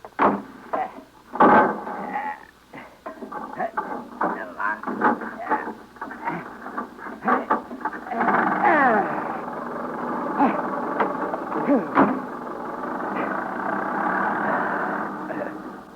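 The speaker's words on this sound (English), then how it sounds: "I'll crank the engine." An old motor car engine is cranked and then settles into a steady running rumble, staged as a radio drama effect, with choppy cranking bursts early giving way to a continuous mid-pitched drone and some speech around it.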